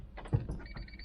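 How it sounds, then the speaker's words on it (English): Dashboard warning chime on a Honda CRX during a first start after sitting, a faint electronic beep rising briefly out of a quiet cabin with soft rustling and low background hum. "Well, it's beeping."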